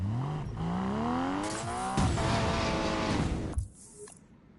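Porsche Cayman in Need for Speed Payback roaring at high revs, the engine pitch climbing steadily before the driver brakes hard, with a tire squeal and a sharp drop in engine noise near the end.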